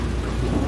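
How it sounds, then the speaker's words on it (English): A deep, continuous rumble of thunder fills the clip, loud and heavy, with a steady wash of rain beneath it. "if he was hearing all this thunder."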